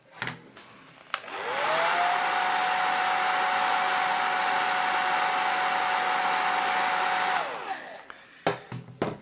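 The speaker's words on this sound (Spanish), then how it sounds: "Un secador nos viene muy bien." A hair dryer blows steadily for about six seconds to dry paint on a miniature, switching on and off with brief handling clicks before and after; close and loud, with no talking.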